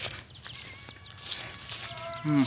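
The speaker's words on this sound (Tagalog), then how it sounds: "Yan po yung ating mga kambing." Goats kept on a farm in the Philippines give a short bleat near the end, heard over quiet outdoor ambience with a few faint knocks and rustles and no speech.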